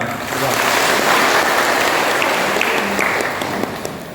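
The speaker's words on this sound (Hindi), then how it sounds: "किसान भाइयों के लिए एक जोरदार ताली।" A large crowd of farmers applauds loudly at an agricultural producer company's annual celebration, a dense, steady wash of clapping that holds for about four seconds before tapering slightly.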